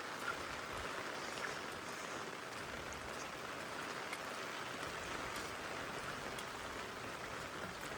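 Steady rain falls over rural rice fields during a flood, making a soft, even hiss of drops hitting wet surfaces. The sound is faint and continuous, with no voices.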